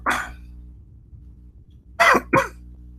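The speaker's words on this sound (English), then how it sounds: "Sorry, I'm coughing." A single cough, then a pause and two quick coughs in succession, close and fairly loud against a quiet hum.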